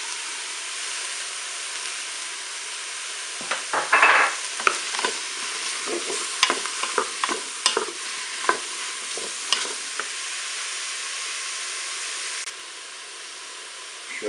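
Chopped garlic frying with pork chops in a Cookeo multicooker, a steady hiss of sizzling broken by a series of sharp scrapes and clicks from stirring, alone without talk.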